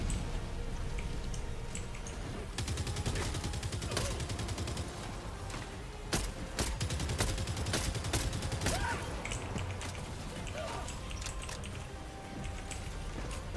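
Dense, continuous video game explosions after a nuke is set off: rolling booms and sharp bursts stack up like a fusillade for the whole stretch, loud and close, with rapid crackling hits and a few faint voice sounds underneath.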